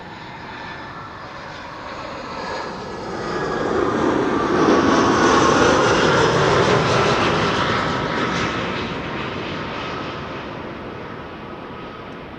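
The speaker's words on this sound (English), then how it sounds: "Lufty Flight 988 A320 arriving from Frankfurt." A Lufthansa Airbus A320 arriving at Amsterdam Schiphol Airport passes with a broad engine roar that swells from a moderate hum to a loud peak midway and then fades off again.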